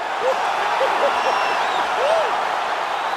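An arena crowd in the UFC 4 video game roars and applauds after a knockout, a broad, steady wash of cheering over which a commentator talks.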